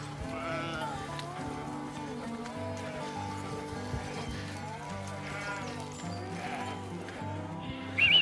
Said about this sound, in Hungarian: Hát ezek, birkák.